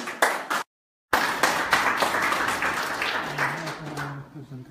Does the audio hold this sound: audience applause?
yes